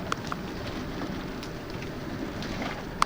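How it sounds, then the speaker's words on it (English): Wort at a strong rolling boil in a Grainfather brewing system makes a dense, steady bubbling hiss with a few sharp pops and crackles. "Good, strong boil."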